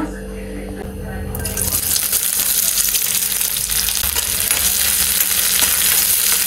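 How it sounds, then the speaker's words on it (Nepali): Oil heating in a pan for frying masala for a soyabean chunks dish, a quiet start that suddenly bursts into a loud, steady crackling sizzle and keeps going. "अब चाहिँ मसला फ्राईको लागि म तेल हाल्दैछु।"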